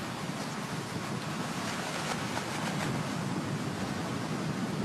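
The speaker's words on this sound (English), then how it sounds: "the wind has really come up in a huge gust" A strong gust of wind roars across an open golf course during the final round of a women's professional tournament, a steady, dense rush of broadband noise with buffeting on the microphone that holds loud throughout, with no talk.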